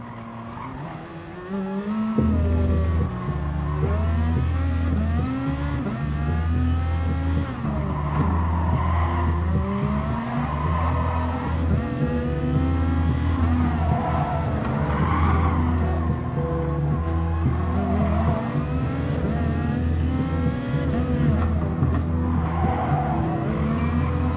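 Race car tires screeching and skidding through a corner in the racing video game Gran Turismo Sport, a continuous loud squeal over a steady engine drone, with no voices.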